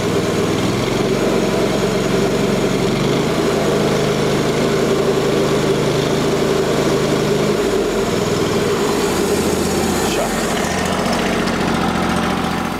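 Petrol engine of a Rhino 500 bandsaw mill running at high throttle, a loud steady drone close by with no talking, shifting slightly in pitch near the end.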